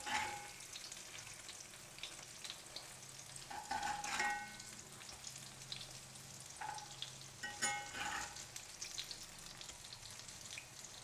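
Soya chunk cutlets fry in a pan with a quiet, steady sizzle, broken by a few soft scraping turns and clinks of a utensil; no talking.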